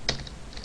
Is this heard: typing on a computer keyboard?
yes